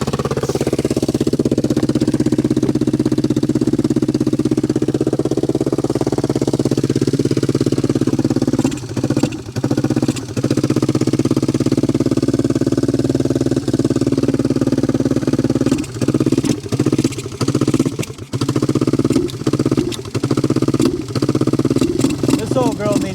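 An old three-wheeler engine that needs a carburetor cleaning runs steadily after starting, with a loud, rough, chugging drone and a few brief stumbles and dropouts toward the end.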